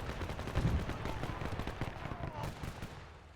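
German artillery guns fire in Men of War II, a dense run of quick repeated blasts and booms rolling under continuous battle noise, with a voice talking over parts of it.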